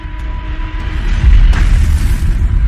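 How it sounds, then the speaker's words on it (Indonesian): A deep, rumbling explosion from the film Recalled, with a loud low-end boom swelling in the middle and a dense roar continuing to the end. "ledakan itu terjadi di hadapannya"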